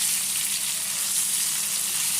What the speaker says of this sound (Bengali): ডিমগুলো ভাজার সময় গ্যাসের ফ্লেমটা আস্তে রাখবেন।